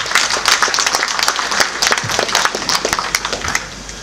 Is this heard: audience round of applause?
yes